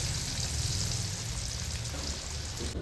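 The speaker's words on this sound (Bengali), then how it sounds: "থ্রি ইন ওয়ান বিরিয়ানির বিশেষ উপকরণ চিংড়ি মাছ এটাকে এবার আমি ভেজে নেব" Prawns frying in hot oil for a chicken and prawn biryani, a continuous dense sizzle with a low bubbling undertone, steady and close throughout with no voices.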